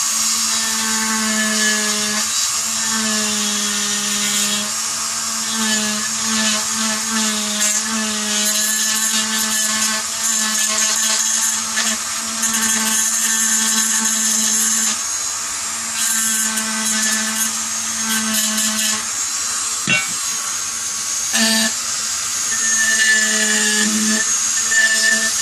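A small rotary tool with a grinding wheel whines continuously at high pitch while grinding parts for an HK G3-style Tippmann A5 build, loud and close, steady for the whole stretch with slight shifts as it bites into the work.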